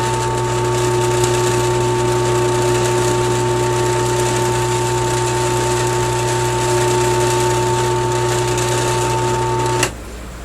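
A drill running as it bores through a plastic Ryobi miter saw zero-clearance insert: a loud, steady whining motor hum with a fixed pitch, holding constant for nearly ten seconds before cutting off abruptly.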